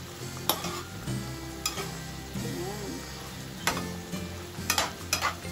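Adobo is sautéed in a pan with a continuous sizzle under background music, broken by several sharp clinks and scrapes of a utensil against the pan.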